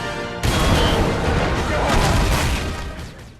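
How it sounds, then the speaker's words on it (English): A film explosion destroying the Statue of Justice bursts in suddenly after a brief quiet lead-in, then a loud, broad roaring rumble with crackling debris sustains and slowly fades. "Suddenly, the Statue of Justice explodes."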